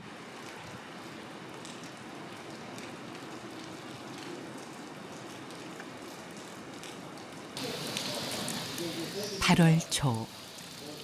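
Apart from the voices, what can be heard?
rain falling in Seoul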